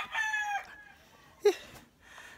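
A rooster on a backyard poultry setting crows once, a loud near call with a rising then sustained, slightly fading line, followed by a short low cluck and quieter background sounds.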